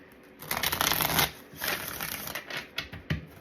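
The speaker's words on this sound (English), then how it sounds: "this is a hard deck to shuffle" A deck of cards being shuffled, two or three quick riffling bursts with soft papery flutter and taps in between, close and fairly loud.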